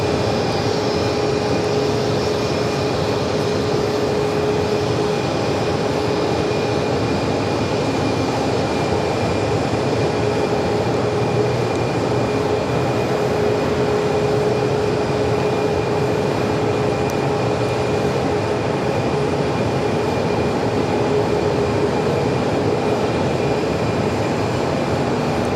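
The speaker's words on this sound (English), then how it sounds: "This is the MAX 8 heading to JFK." A Boeing 737 MAX 8 airliner bound for JFK at Phoenix airport gives a steady, continuous engine drone with a sustained whine on top, unchanging and fairly loud throughout.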